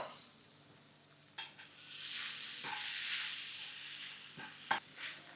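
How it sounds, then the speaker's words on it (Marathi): Coarsely ground peas sauté in a pan, a quiet hiss that swells into a steady sizzle, broken by a few sharp taps and scrapes of a spoon, close by with no talking. "ह्याला छान आपण परतून घेऊ."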